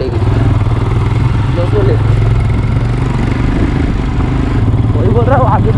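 A vehicle engine drones loudly and steadily in first gear on a rough, rocky off-road track in Solang Valley near Manali in winter, close by, with someone briefly talking over it.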